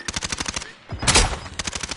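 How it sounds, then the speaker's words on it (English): Automatic gunfire in Warzone Resurgence, rapid close bursts of shots in quick rhythm, broken by a short pause and a louder blast, then more rapid firing. "Oh, I shot right below him."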